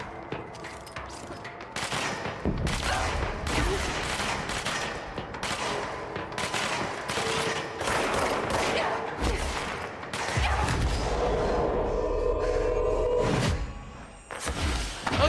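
Loud, dense gunfire from the video game Control, with rapid overlapping shots and bursts sustained through the whole stretch alongside thuds and impacts, under occasional speech.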